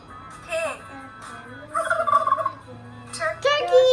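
A white-and-red farm turkey gobbles in several separate rattling bursts with short pauses between them, loud and close, and nobody talks over the calls.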